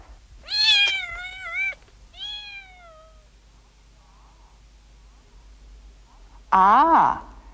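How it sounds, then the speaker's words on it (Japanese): A cat meows three times, close and clear: two drawn-out cries in quick succession, a pause, then a sharper, louder meow. "猫がいます。"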